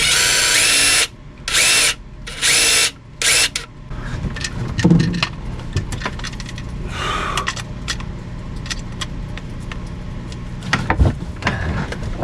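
Several short, loud bursts of a power drill whirring in quick succession, driving #8 5/8-inch stainless steel screws on a boat, then quieter rattling and handling noises.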